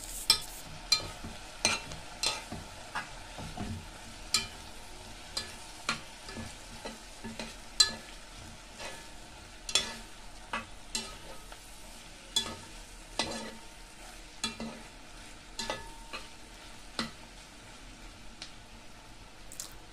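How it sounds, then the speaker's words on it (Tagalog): Beef pares stirred in a frying pan, a soft continuous sizzle broken by repeated sharp scrapes and clacks of the utensil against the pan, close and steady with no talking. "Ipagpatuloy lang po ang paghahalo para maiwasan masunog."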